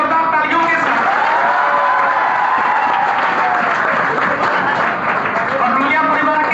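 An audience at a welcoming ceremony gives a round of hearty applause, continuous clapping and some cheering for several seconds, with a voice speaking over the crowd.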